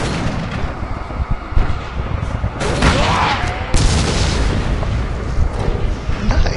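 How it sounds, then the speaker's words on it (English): Bursts of video game gunfire from Call of Cthulhu: Dark Corners of the Earth crackle through a dense, noisy background, with a few louder shots standing out amid continuous rumble and faint voices. "I hear more gunshots."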